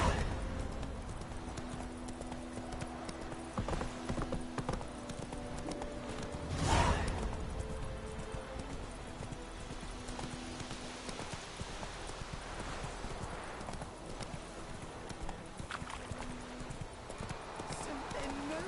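Hooves of Roach, the horse in The Witcher 3, clip-clop at a steady walking rhythm throughout, with game music, ambient sounds and a brief louder thump midway; speech is present.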